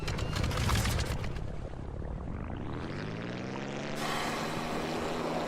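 A seaplane's propeller drones in the video game The Brew Barons, a steady buzzing engine tone that shifts pitch as it flies, with a brighter burst near the end.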